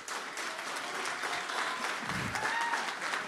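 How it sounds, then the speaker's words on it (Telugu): Audience applause fills the whole stretch, a dense, steady wash of many hands clapping at even loudness, with a faint voice briefly audible partway through. "ఏదో ఒక మూల నుంచి చప్పట్లు కొడుతున్నాడు"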